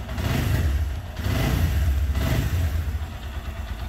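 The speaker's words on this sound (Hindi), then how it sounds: "बाइक स्टार्ट हो गई है" A Suzuki GS 150 motorcycle fitted with an NGK laser iridium spark plug runs close by, its engine swelling in two distinct revs before settling back toward idle, steady and fairly loud, with no voices.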